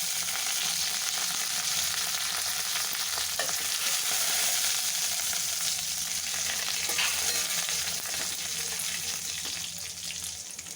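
Cumin, green chillies and curry leaves fry in hot oil, giving a steady, loud broadband sizzle with some stirring and scraping. The sizzle continues for the whole span and fades slightly near the end, with no voices.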